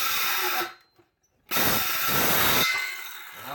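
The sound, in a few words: cordless power tool cutting through wood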